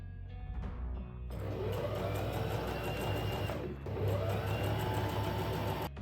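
A sewing machine stitches the sleeve lining of a leather trench coat, its motor whirring in a steady close run for several seconds, pausing briefly, then starting up again.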